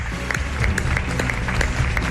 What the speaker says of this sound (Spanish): Un aplauso para vosotros ahora y la gratitud por que estéis aquí.